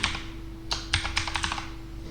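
Keys on a computer keyboard are tapped to enter a worker name into mining software, heard up close. A brief lead-in of keystrokes, a short pause, then a quick run of clicks over a faint steady hum.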